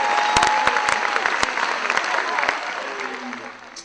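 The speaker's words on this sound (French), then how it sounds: "Est-ce qu'on peut applaudir pour eux, s'il vous plaît?" An audience at a wedding show claps in a dense burst of applause with a few sharp individual claps, fading slightly toward the end.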